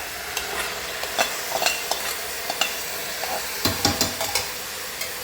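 Rice is stirred into salted vegetables sautéing in a pot for vegetable pulao, a steady frying hiss broken by repeated scraping strokes of a spoon at an uneven rhythm, close and fairly loud.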